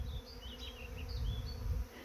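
A swarm of honey bees on the move gives a dense, continuous buzzing drone, close and steady, with no voices.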